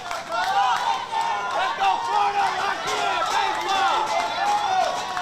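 A home crowd of Alabama fans cheers and shouts at a Dixie Youth Baseball O-Zone World Series game against Florida. The loud mass of overlapping voices and yells rises and surges continuously, with claps scattered through it.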